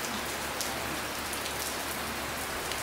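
Steady rain pours down at an outdoor cooking spot, a dense, even hiss of drops striking surfaces throughout with no voices.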